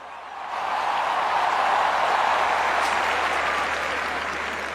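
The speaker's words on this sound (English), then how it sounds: "Let's give a huge round of applause." A large crowd at the 2011 Cricket World Cup opening ceremony in Bangladesh applauds the fourteen team captains, a dense, sustained wash of clapping that swells quickly and holds steady throughout.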